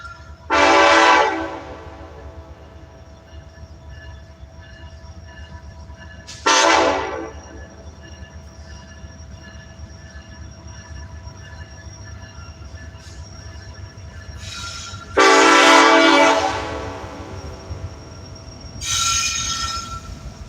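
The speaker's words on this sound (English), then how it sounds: "this train is gonna be super loud" A loud train passes close by with a constant rumble and squealing wheels, broken by several long horn blasts. Nobody speaks.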